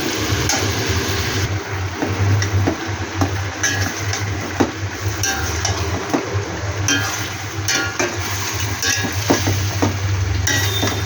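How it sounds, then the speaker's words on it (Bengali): Meat being sautéed in a pan for a home-style grandmother's recipe, loud continuous sizzling with frequent scraping and clinking of the spatula against the pan, close up and without speech. "মাংসটা খুব ভালোভাবে কষে নিই"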